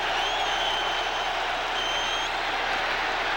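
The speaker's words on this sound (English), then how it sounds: "But oh, this crowd." A stadium crowd at a Denver Broncos versus Detroit Lions football game roars in a steady, dense wash of cheering, with faint whistles rising above it.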